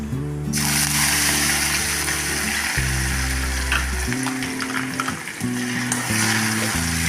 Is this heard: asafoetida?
yes